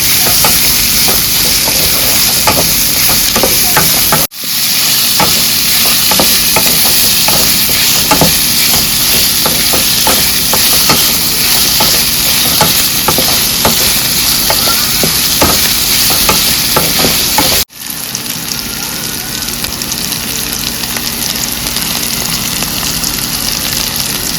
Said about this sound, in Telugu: త్వరగా వేగే వరకు ఇట్లా వేయిస్తూనే ఉందాం.